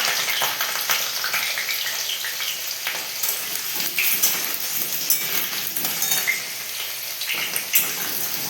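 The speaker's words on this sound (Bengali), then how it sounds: "তেলে এবার এই আলুগুলোকে লাল লাল করে ভেজে নেবো" Continuous crackling and spattering of potatoes frying in oil in a wok, with occasional light clinks of a utensil, moderately loud and steady throughout.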